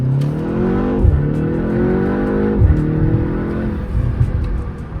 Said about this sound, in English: it's basically BMW pumping in fake engine noises into the cabin to make the car sound more sporty